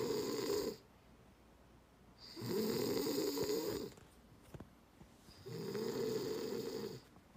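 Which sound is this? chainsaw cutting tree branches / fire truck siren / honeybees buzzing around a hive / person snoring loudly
person snoring loudly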